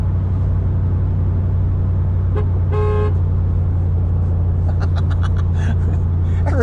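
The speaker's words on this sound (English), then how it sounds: "Oh, there's going to be a honking." A car horn honks in morning traffic over the steady low rumble of an engine heard from inside a cheap old truck, one clear toot followed by several short, quicker honks from nearby vehicles.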